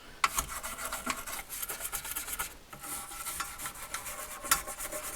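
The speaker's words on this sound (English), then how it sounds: "I'm just using this stiff nylon brush." A stiff nylon brush scrubs caked dust off the chassis of a Pioneer SX-1280 receiver in steady, rapid rasping strokes, close up and moderately quiet, with a brief break partway through and no voices.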